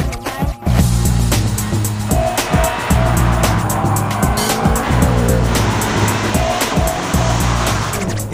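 A BMW 3.0 CSL race car on a racetrack, its loud engine roaring continuously with tires squealing and rising and falling revs through the run.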